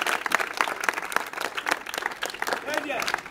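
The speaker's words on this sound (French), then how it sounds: "Applaudissez, applaudissez." A crowd applauds during a welcome visit in Mokali, dense continuous clapping with voices mixed in throughout.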